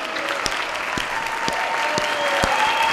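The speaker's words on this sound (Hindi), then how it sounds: "तालियां कमजोर हैं।" Applause from an audience at a Hindi comedy poetry event (hasya kavi sammelan), a steady crowd clapping at moderate volume, with a few sharper individual claps standing out and the clapping swelling slightly toward the end.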